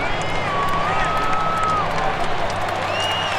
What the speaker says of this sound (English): you'll hear this crowd picking up their team